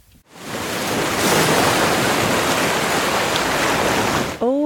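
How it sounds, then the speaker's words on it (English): Pacific Ocean surf crashing on a California shore, a steady, loud, broadband wash of breaking waves that swells in and holds for several seconds before cutting off abruptly. "the waves of the Pacific Ocean as it comes crashing upon the shore"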